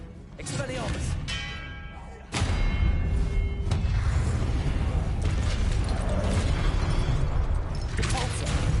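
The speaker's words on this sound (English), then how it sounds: "Expelliarmus." Spell casting in the Hogwarts Legacy video game, a disarming spell cast during combat: a sharp whooshing burst with an abrupt loud onset, followed by dense, sustained magical rumbling and crackle that continues to the end.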